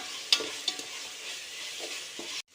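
Ingredients for seeraga samba chicken dum biryani sauté in a pan with a soft, continuous sizzle, broken by a few sharp scrapes and clicks of a stirring spoon, close by and fairly quiet.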